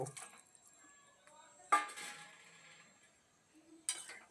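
Fried silver carp being gently stirred into a sour-spicy curry in a pan, heard as a few clinks of a utensil against metal with soft scraping between them, alone and fairly quiet.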